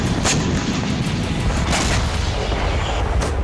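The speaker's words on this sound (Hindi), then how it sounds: "यूक्रेनी रक्षा मंत्रालय के मुताबिक क्रीमिया नेवल बेस के साथ 8 इलाकों में धमाके हुए।" Explosions at a Crimean naval base form a loud, dense, continuous roar of booms and rumbling blasts with no pauses between them.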